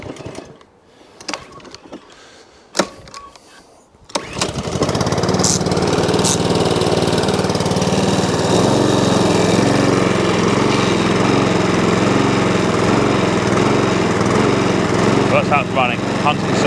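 Honda HRX476 lawn mower with a dirty carburetor and a hunting, surging fault, running on choke; a few clicks and knocks come first, then the engine starts at about four seconds and holds a loud, close, steady drone.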